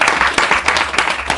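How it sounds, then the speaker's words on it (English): A round of audience applause for a boy, a short burst of loud, dense clapping from a crowd, sustained without pause. "let's give a round of applause for the boy."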